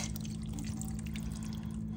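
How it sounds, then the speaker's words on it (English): Beef broth pouring into a crock pot for short ribs, a steady close liquid stream running continuously over a low background hum, with no talk. "I'm going to add some beef broth."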